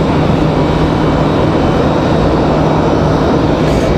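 FlexJet business jet arriving at Raleigh-Durham airport, a steady loud broadband engine roar that holds unbroken throughout, heard at a distance.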